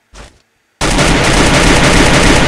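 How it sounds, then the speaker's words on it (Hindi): Loud sustained automatic gunfire fired into the air in the Free Fire battle royale game, a continuous rattling burst after a short quiet moment with a brief softer sound before it. "हवा में फायरिंग"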